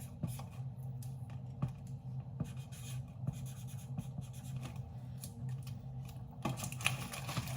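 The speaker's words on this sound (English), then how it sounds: "And then write it down on the bottom." A pen scratches as it writes on the bottom of a cardboard box, close and quiet, with quick irregular strokes and taps over several seconds.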